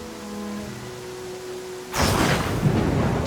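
Thunderstorm in the fantasy RPG Pathfinder: Kingmaker, with a quiet tonal ambience giving way after two seconds to a loud, sustained broadband rumble and hiss of thunder and pouring rain that holds steady to the end.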